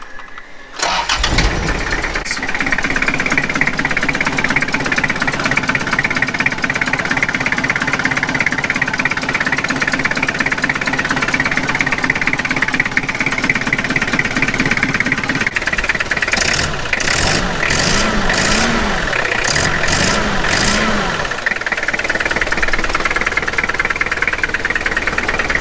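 After a brief pause a diesel ute engine cranks and catches, settling into a loud, steady idle with a rough knocking rumble, joined later by a few bursts of higher revving.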